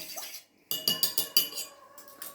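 A metal spoon stirs a mixture in a bowl while simit dough is being made, giving a quick run of five or six close, bright clinks against the side of the bowl, with a lighter tap at the end.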